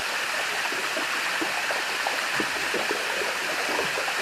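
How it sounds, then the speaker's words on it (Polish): A dense, continuous fizzing hiss with scattered crackles and pops, steady and unbroken, from glacier ice melting underwater in a glacial bay. "jak ten dźwięk słyszymy w zatokach lodowcowych?"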